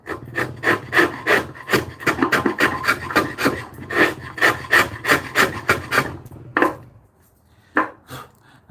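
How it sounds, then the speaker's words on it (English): A chisel pared and bumped along a wooden ridge, giving loud rhythmic scraping strokes in steady succession for several seconds, then pausing and resuming with a few isolated strokes; no voices. "I'm going to point my chisel up and bump it. And then keep doing that to take that ridge off."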